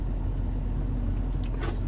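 A passing car on a road, heard from inside another vehicle as a steady low rumble with a slight swell of tire and engine noise near the end; no talking.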